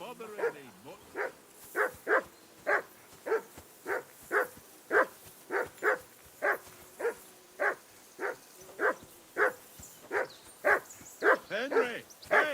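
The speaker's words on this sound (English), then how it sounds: "Henry, hey, call off that mutt of yours." Mutt, a dog in medieval Bohemia in Kingdom Come: Deliverance II, barks steadily about twenty times in a regular rhythm at close range, with a few whines near the end.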